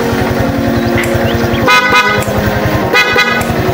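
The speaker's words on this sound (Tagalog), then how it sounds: "Sobrang lakas, Pia horn yung gamit" A loud PIAA motorcycle horn on a Honda RS125 Fi honks in two bursts over a steadily idling engine, close and piercing.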